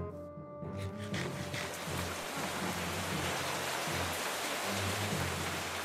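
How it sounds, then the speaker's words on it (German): Steady rain falls in a Minecraft game world, a dense continuous hiss that starts after a brief quieter moment and then holds evenly with no talk over it. "Und warum hat der Regen auf einmal aufgehört? Da ist er wieder."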